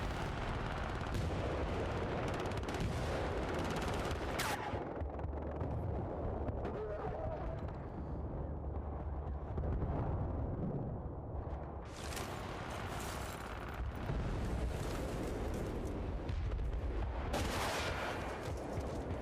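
Video game gunfire from an Apache helicopter striking targets, heavy repeated bursts and booming impacts rumbling continuously, with someone talking over the action.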